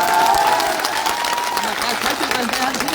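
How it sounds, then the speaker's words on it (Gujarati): A crowd at a political rally in Gujarat applauds a woman, loud continuous clapping with some cheering while a voice carries over the top. "આજે પહેલી વાત તો એ બેન માટે જોરદાર તાળીઓ થઈ જાય"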